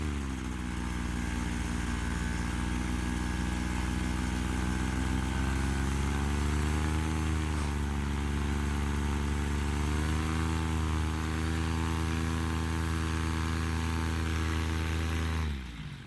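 A Moster 185 Classic paramotor engine, freshly rebuilt, runs steadily at partial throttle close by, a buzzing two-stroke drone whose pitch sags and recovers slightly before cutting off at the end.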